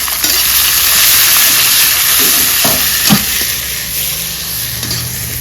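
Tomatoes fry with onion in a pan for Bengali rohu fish curry, a continuous loud sizzle with occasional spoon scrapes and clinks, no voices present.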